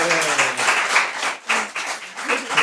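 Church congregation applauding at a French worship celebration, steady sustained clapping from many hands that rises and falls slightly, with no talk.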